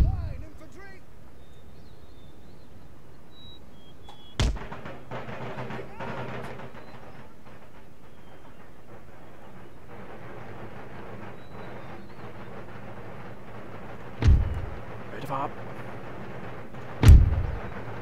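Musket volleys from infantry lines in the Empire: Total War strategy game go off as sharp, heavy booms. A few separate shots ring out over a low battlefield rumble.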